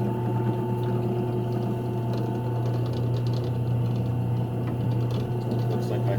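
A Porter Cable drill press runs steadily nearby, a constant motor hum with a strong low drone and a faint whirring rattle that does not change.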